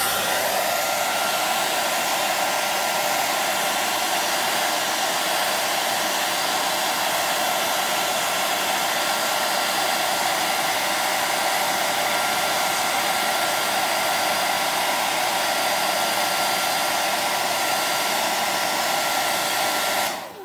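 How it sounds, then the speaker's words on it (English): Hair dryer running on low heat, a steady continuous whoosh of blowing air that holds evenly for about twenty seconds at close range, with no one talking. "So I want to warm up this hairdryer in the background."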